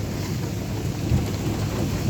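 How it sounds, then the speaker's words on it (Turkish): Steady rain pours down with a constant hiss, and a low rumble of thunder rolls underneath. "yağmur başladı"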